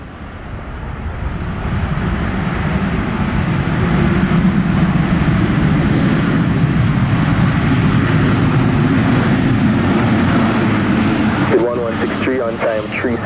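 A jet airliner rolls for takeoff on runway 7 at Montego Bay on a rainy day, its engines swelling into a loud, sustained roar that holds steady, with faint speech near the end.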